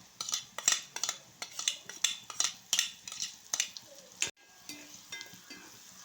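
Carrot goes into a pan and a utensil stirs it, making a rhythmic run of bright metallic scrapes and clinks at about two per second that stops abruptly, with a faint sizzle underneath.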